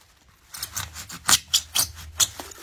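Scissors snip through the bottom of a Dollar Tree foam pumpkin for a topiary, giving about seven close, crisp cutting crunches in a fairly steady rhythm over a faint low hum.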